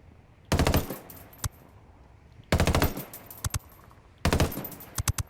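Three bursts of assault rifle fire in Ghost Recon Wildlands, each a rapid cluster of sharp, loud shots with pauses between them, plus a few single cracks, against a quiet background.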